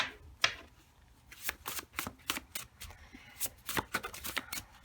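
Tarot cards are shuffled by hand for a pick-a-pile reading, heard as a close run of quick, crisp riffling snaps and flutters that stays busy and irregular throughout at moderate volume.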